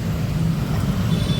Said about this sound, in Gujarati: અહીંયા જો નકરા વાહનનો અવાજ આવે અહીંયા ભાઈ